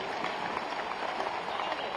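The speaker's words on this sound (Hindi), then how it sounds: "एक बार तालियां बजा दीजिए" Audience applause at a Kumar Vishwas kavi sammelan poetry recital in Raipur, a steady dense wash of clapping filling the hall for the full two seconds without pause.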